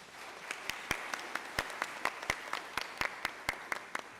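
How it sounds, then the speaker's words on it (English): A small audience at a school learning celebration gives applause, heard as sparse, distinct individual claps spaced irregularly and fairly faint, like only a few people clapping in a quiet room. "Let's give Scott a round of applause"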